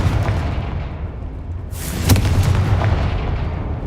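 The Confringo explosion spell in Hogwarts Legacy lands with a heavy blast and a rumbling, booming burst over a continuous low roar, loud and close.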